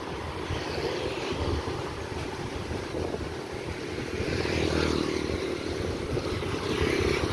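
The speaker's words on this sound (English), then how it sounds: "It's fun watching the motorbikes traffic in Vietnam." Steady broadband traffic roar from motorbikes passing along the beachfront road at Nha Trang, Vietnam, a continuous engine drone with wind buffeting, no voices.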